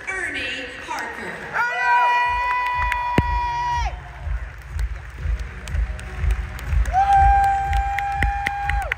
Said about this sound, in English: Please welcome to the stage award-winning storyteller who will now get the applause he deserves, Ernie Harker.